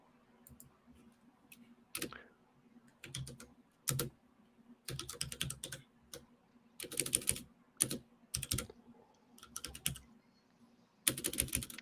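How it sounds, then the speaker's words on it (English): Keys on a computer keyboard clatter close by in irregular bursts of quick clicks, separated by short pauses, over a quiet low hum during a call. "the keyboard sound kept going"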